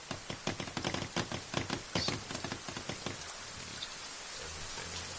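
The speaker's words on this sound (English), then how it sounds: "Getting rained on." Rain pattering in the survival video game The Forest, dense drops striking surfaces with sharp irregular taps early on that thin into a steadier soft wash, close and fairly loud with no voices.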